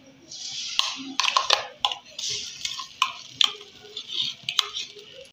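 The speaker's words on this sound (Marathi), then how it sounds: "ज्या कढईमध्ये मी शेंगा वाफवून घेतल्या होत्या त्याच कढईत मसाला परतून घेणार आहे" Masala sautéing in a kadhai still coated from steaming drumsticks for a black-masala drumstick curry: a soft sizzle broken by repeated sharp ticks and scrapes of stirring, close by and moderately quiet.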